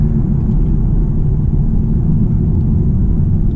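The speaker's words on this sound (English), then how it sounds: "All I'm hearing is the tire rolls, and it's quiet." Tire roll of a 2018 BMW 330e plug-in hybrid driving on electric power only, a steady low rumble heard from inside the cabin with no engine note, continuous and even throughout.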